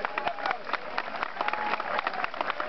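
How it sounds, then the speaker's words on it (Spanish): A crowd at a prize draw applauds with continuous dense clapping at moderate level, with a voice talking over it. "Vamos, más fuerte el aplauso"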